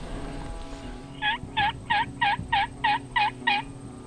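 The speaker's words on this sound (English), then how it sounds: "There's a gobbler in the head about 40 yards away over this this ridge moving up the hill" A wild turkey gobbler on a Wyoming spring hillside gives eight evenly spaced, rapid gobbling notes. The bird sounds moderately close and is clear above a faint outdoor background.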